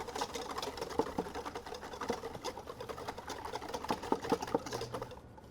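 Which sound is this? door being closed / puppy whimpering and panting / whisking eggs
whisking eggs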